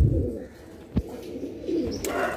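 Soft, low pigeon cooing with a few scattered flutters and thumps, close by and fairly quiet.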